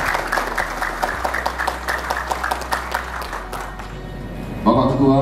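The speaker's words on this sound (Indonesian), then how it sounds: "Saya mau tepuk tangan dulu buat kalian." At a police award ceremony, an audience applauds with a loud, regular run of claps that thins out after about three seconds, then a voice comes in near the end over a low steady hum.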